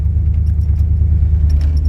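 A steady low rumble from an old car engine idling continuously, with faint light jingling and clicks on top; no one speaks.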